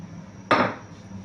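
Kadai pan set down on a stove for frying oil: one sharp metallic clunk, close and fairly loud, decaying quickly into quiet room hum.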